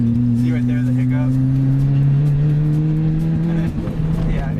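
Toyota MR2 Spyder with a turbocharged 2ZZ-GTE engine pulls uphill with a rising engine drone, then stumbles in a brief hiccup near the end, with a voice talking over it.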